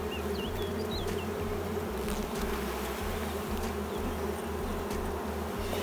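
Honeybees buzz steadily inside a sparsely populated hive that still holds honey, a dense continuous drone close up with a few brighter insect whines passing over it, and nobody speaking.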